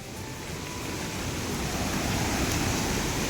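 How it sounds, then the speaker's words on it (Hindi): A steady, dense roar of a waterfall's rushing water that swells slightly louder over time, broad and continuous with no other sounds. "यहाँ पर झरने का भी गड़गड़ाहट यहाँ पर आ रहा है"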